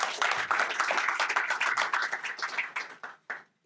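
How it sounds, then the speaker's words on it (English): A cinema audience claps for a film editor in a burst of applause that tapers off toward the end, the final scattered claps trailing into quiet. "Big round of applause for the man who made it such a great film."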